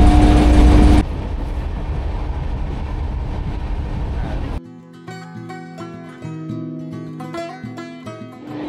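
A moving passenger train in West Bengal near Kolaghat and Panskura gives a steady, loud rumbling roar for several seconds, then the rail noise drops away and music takes over.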